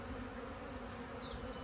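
Honey bees buzz steadily in an open hive during an inspection, a dense, continuous drone close by with no breaks and no voices.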